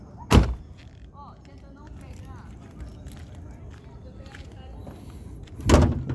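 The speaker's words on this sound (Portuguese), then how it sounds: "Vou abrir a casinha de máquinas dele aqui." A 1995 Vectra GLS has its engine bay opened, with two sharp, loud clunks of the hood latch and panel, one at the start and one near the end, separated by quiet handling noise.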